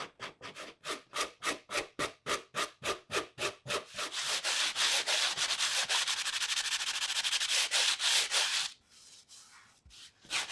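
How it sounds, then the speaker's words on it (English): Camphor laurel wood edge being hand-sanded to shape, first in a run of quick, regular back-and-forth strokes, then a sustained, loud continuous rubbing, easing off into a few separate strokes at the end; no talking. "I'm not just sanding the edge smooth here, I'm final shaping it by taking out any humps and bumps."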